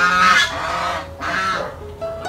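A goose gives two loud, nasal honks close by, each a harsh drawn-out call, followed by a softer short call, with no talk over it.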